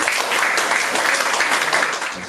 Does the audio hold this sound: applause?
yes